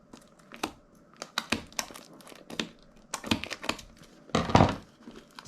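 A Yu-Gi-Oh card pack wrapper is opened gently, giving irregular bursts of close crinkling and tearing plastic separated by short quiet gaps, with one louder rip near the end.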